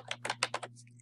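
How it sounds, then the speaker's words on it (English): Rapid keystrokes on a computer keyboard as a search term is entered, about five clustered bursts of close, crisp clicks followed by a few fainter taps over a steady low hum. "Type in your search term, which is deodorant"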